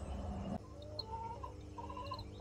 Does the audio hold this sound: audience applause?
no